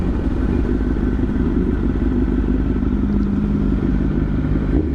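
Pair of 1000cc sport motorcycles riding together on a road in Florence, South Carolina, a loud, continuous engine drone and rumble close by with no break.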